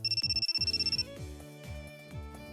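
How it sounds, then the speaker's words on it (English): Electronic cell phone ringtone jingle from The Fruit of Grisaia visual novel: a fast, beeping melodic loop in bright synth tones, close and clear, running alone for a couple of seconds. "My private cell phone begins to buzz in the pocket of my uniform, emitting that familiar electronic jingle"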